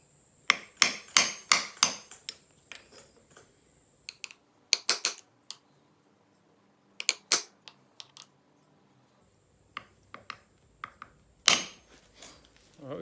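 A socket is used as a driver to tap an outboard motor's propeller shaft seal square into its bore. Sharp, close hammer taps come in quick bursts of several hits, with short pauses between groups.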